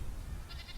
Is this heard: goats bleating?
yes